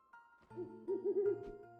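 An owl hoots in the Roblox game 99 Nights in the Forest, a short, soft run of three or four low, rounded hoots over a quiet tonal game backdrop.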